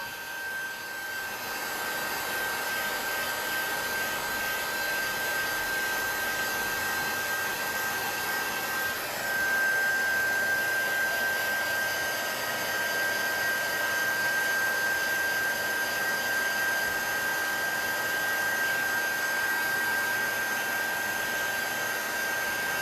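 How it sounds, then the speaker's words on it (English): Paint in an art journal being dried with a heat tool: a continuous loud fan whir with a thin high whine, running steadily and close for the whole stretch, alone. "I'm going to see if I can hit this for a second with the heat tool to kind of dry it."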